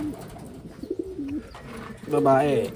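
Pigeons from two breeding pairs give low, rolling coos close by, and a person's voice talks over the birds toward the end.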